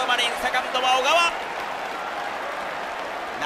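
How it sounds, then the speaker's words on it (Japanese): A baseball stadium crowd in Japan, a Lotte home game, applauds and cheers a deep play by the second baseman. Loud, dense clapping rises over a steady crowd roar and then fades into the ambient murmur, with a commentator's voice over the noise. "拍手喝采"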